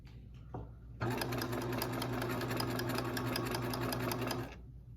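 Sewing machine stitching bias tape onto a seam finish, a steady close mechanical whir with rapid needle ticks running for a few seconds after a brief quiet start.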